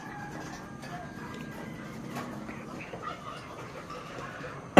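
Chickens in a backyard coop clucking softly at a moderate distance, intermittent low calls over a faint ambient hum, no clear talk.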